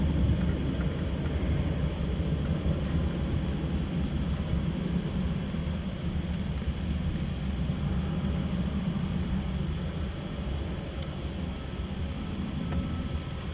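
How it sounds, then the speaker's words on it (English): A slight rain shower at Luton Airport in the early morning gives a steady broadband hiss that stays even throughout, with a low background rumble underneath and no voices. "A slight rain shower now."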